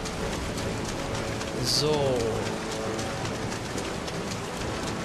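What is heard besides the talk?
rain in the video game Kingdom Hearts 3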